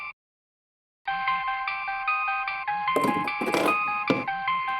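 A phone ringtone plays loudly after a brief silence, a repeating melodic electronic tune with some rustling noise mixed in.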